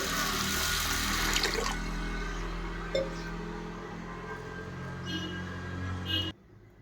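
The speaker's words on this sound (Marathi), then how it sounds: "आता हे तांदूळ मी स्वच्छ अगोदर धुवून घेणार आहे." Rice is washed with water for an egg biryani. Loud, continuous running water and sloshing fill most of the moment, with a faint clink, before the flow cuts off abruptly near the end.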